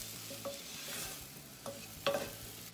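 Onions stirred in a pan, with a steady quiet sizzle and a few sharper scraping strokes of the spoon at the start, middle and near the end.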